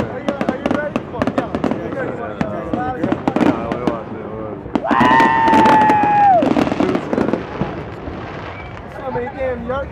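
Fourth of July fireworks burst and crackle repeatedly outdoors, with a long whistling shell rising midway, while excited people talk and shout throughout.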